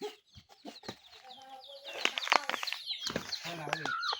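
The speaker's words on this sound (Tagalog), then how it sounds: "Laban yung manok guys." Roosters squabble outdoors in a village in Marinduque, Philippines, with sharp clucks and squawks, bursts of wing flapping, and people talking nearby.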